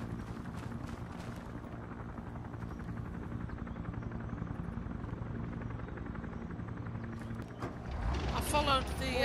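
A medevac helicopter in the video game ArmA 3 makes a steady, low rotor drone throughout, building louder toward the end amid a burst of other game noise.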